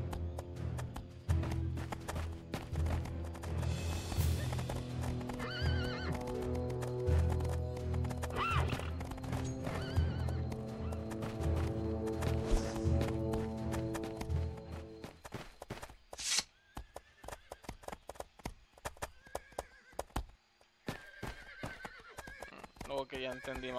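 Horses in the video game Riders of Icarus neigh and whinny over a layered game soundtrack, with clopping hooves and sharp taps, while someone talks throughout; the background thins toward the end, leaving scattered clicks.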